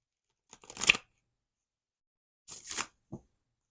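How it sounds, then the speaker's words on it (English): Tarot cards being shuffled in two short bursts of riffling, a longer one then another, with a small tap at the end, close and fairly quiet against silence. "Let's give it one more shuffle."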